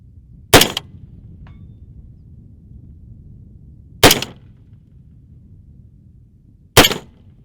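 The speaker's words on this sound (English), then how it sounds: "So let's take some shots." Three sharp, loud rifle shots fired at a target through a Primary Arms 1-8 Raptor scope from a compact tripod, spaced several seconds apart with quiet ambient hiss between each report.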